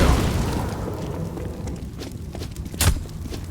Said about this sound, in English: let's say you throw a Molotov here.